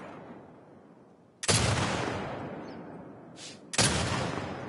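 Gunfire in The Last of Us Part 2: two loud, close shots, the first sharp blast followed by a long fading roar, then a brief burst and a second heavy shot near the end, with no talking.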